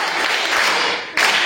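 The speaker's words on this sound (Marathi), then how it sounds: "त्याच्यासाठी टाळ्या वाजवायच्या." Classroom applause at a rural Marathi primary school quiz, a dense burst of children clapping for a student's correct answers, loud and steady, briefly dipping before surging again.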